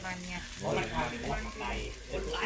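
A giant mackerel grills over a barbecue fire, with a soft sizzle and crackle running steadily beneath close, lively conversation.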